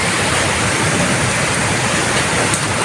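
A flooded river rushes during a typhoon in the Philippines, loud and close, as a dense, unbroken roar of churning water with no voices.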